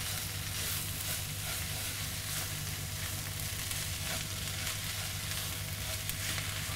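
Basmati rice is stirred into a sizzling one-pot chicken dish with onion marmalade, giving a constant, even hiss and crackle of frying with no talking over it.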